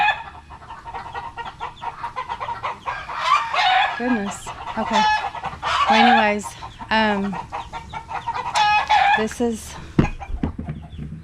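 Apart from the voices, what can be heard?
chickens and roosters clucking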